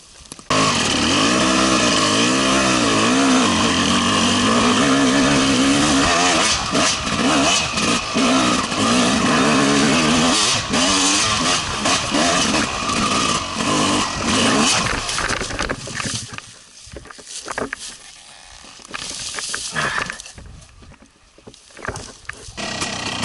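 A Yamaha YZ 250 dirt bike climbs a hill, its two-stroke engine screaming loud and close for about fifteen seconds, then dropping to quieter, uneven revving and idling.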